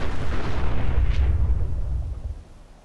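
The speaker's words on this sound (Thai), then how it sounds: "รถฟิวชั่นไงเวลาระเบิดมันก็เลยระเบิดต่อเนื่องมา" A chain explosion of fusion-powered cars in Fallout 4, heavy rumbling booms rolling together with a brief sharp burst in the middle, loud and close, then trailing off.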